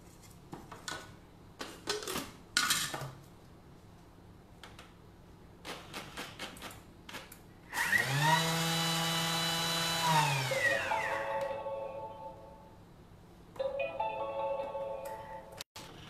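A Thermomix blends cake batter at speed 10, rising into a loud, whining motor roar that holds for a few seconds and then winds down, with scattered clatters and knocks of kitchen handling before and after.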